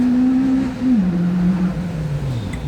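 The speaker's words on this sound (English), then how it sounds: "Now here comes the 55 of Neil Tuckey in the Ford Fiesta. 1300cc powering that car up the hill." A 1300cc Ford Fiesta rally car accelerating up a hillclimb course, a steady strained engine drone whose pitch sags slightly as it pulls away, heard alone at moderate distance.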